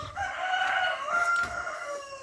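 A rooster lets out a single long, drawn-out crow close by at a house on a rainy day, with no one speaking.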